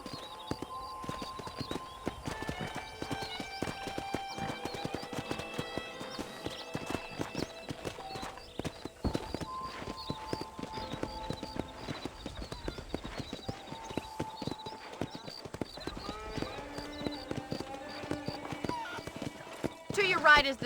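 Horse hooves clip-clop steadily in the Red Dead Redemption video game, with occasional neighs, under continuous speech and background music.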